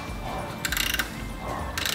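A socket ratchet clicks in two short, rapid bursts while tightening brake caliper bolts on a wrecked Mk8 Volkswagen Golf R, crisp and close against a quiet garage background.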